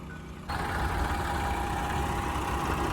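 A tractor engine runs steadily at a low idle-like drone while spreading chicken manure fertilizer on a field at slow speed, starting abruptly louder after a moment and holding an even hum.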